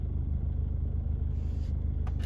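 A car engine runs with a steady low rumble, close and continuous, with a faint brief knock near the end and no voices.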